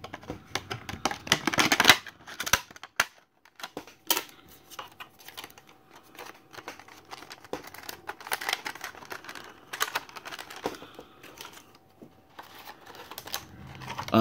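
Scissors snip through the cardboard card of a carded action figure, giving crisp cuts and crinkly rustles up close, with a loud burst early on followed by scattered intermittent snips and handling noise, no talking.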